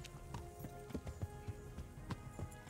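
Steady clip-clop of horse hooves at a walking pace in Kingdom Come: Deliverance, a run of evenly spaced hoof strikes at moderate volume with a faint background hum.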